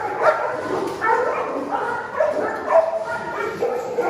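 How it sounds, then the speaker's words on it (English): Police service dogs in a cage bark and yip excitedly, several dogs overlapping in a busy, echoing chorus with some whimpering, close by and continuous. "These are all police service dogs. They're fired up."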